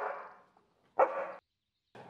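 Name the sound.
dog barking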